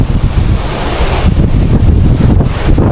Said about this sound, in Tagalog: murag grabe jud ka hangin diri mga kado kay plantada man. So hangin jud kayo.